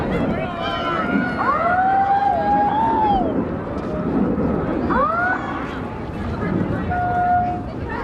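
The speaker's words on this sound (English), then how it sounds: "That's the sound of the police." A police siren wails in rising and falling sweeps over a noisy, crowded space at a high school swim meet, rising briefly twice with a steady tone near the end.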